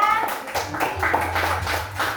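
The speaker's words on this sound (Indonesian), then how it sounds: "Tepuk tangan dulu untuk kelompok 3." Pupils and a teacher applaud a student group in an elementary school classroom, a short burst of hand clapping with irregular individual claps over a low voice murmuring beneath.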